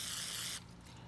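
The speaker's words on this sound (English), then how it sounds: "Give a little spray." A short, loud hiss of aerosol cleaner sprayed into a Yamaha Star 650 motorcycle carburetor lasts about half a second, then cuts off abruptly, leaving quiet background.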